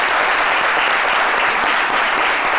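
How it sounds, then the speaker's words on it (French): A studio audience on a French-language African midday TV talk show bursts into sustained, loud applause for all fathers, a dense steady wall of clapping throughout. "On applaudit quand même pour tous les papas."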